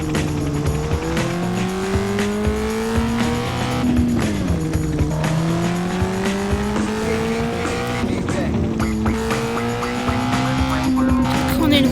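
A car in the video game Gangstar IV weaves in zigzags, its engine droning steadily with rising and falling pitch as it swerves, tyres squealing briefly, while someone talks over it.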